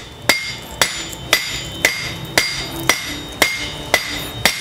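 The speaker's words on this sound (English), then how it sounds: "Notice my hammer is in one spot and I'm moving the copper as much as possible underneath it." Sharp, ringing hammer blows strike copper on an anvil while forging a spatula, about nine evenly spaced hits, loud and close with a bright metallic ring.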